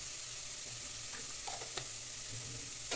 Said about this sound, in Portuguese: Aí você vai fritando.